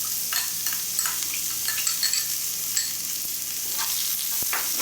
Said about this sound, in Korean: 양념이 배일 수 있게끔 한번 잘 볶아주세요.